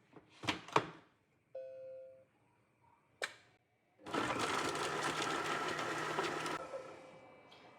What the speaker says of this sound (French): J'ai mis mes 2 oignons et mes 4 gousses d'ail. Voilà. Je passe à l'étape suivante. Et je vais les mettre à mixer.